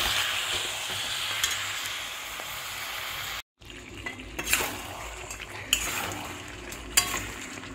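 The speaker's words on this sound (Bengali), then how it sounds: "দিয়ে আবার এটাকে ভালো করে কষিয়ে নিতে হবে।" Chicken curry with spices and curd sizzles in a pan, broken by a brief silent gap, then a utensil scrapes and knocks against the pan with occasional sharp clinks as it is stirred.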